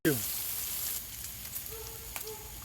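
Bacon sizzles steadily on a Blackstone griddle, a close, continuous crackle and hiss with a few brief pops, and no voices.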